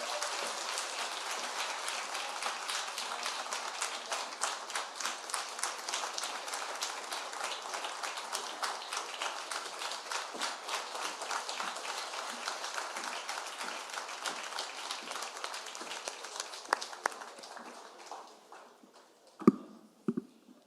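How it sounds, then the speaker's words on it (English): A lecture audience applauds in a long, dense burst of clapping that holds steady for most of the time and then thins and fades into a few scattered claps near the end. "another round of applause"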